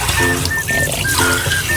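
Tap water running into a container while preparing pancit canton in a kitchen, a steady close splashing stream with faint tonal whines from the pipes, no talking.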